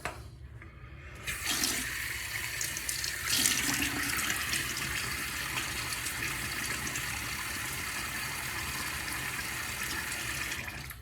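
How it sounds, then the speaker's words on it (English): Water runs steadily from a bathroom tap into a sink as a face is wetted before a wet shave, a broad continuous hiss that starts after about a second and holds nearly constant, close and fairly loud, with no talking. "let me get my face wet"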